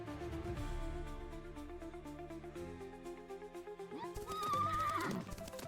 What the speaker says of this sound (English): I woke up to the sound of galloping horses.